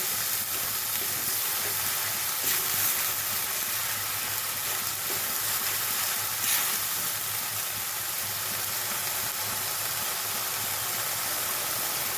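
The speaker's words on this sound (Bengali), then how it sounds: "এবার মশলা একটু ভালো করে কষিয়ে নেব।" Spice masala fried in a pan for a small potato curry hisses and sizzles steadily for a long stretch, with a faint scrape of stirring now and then and no voices.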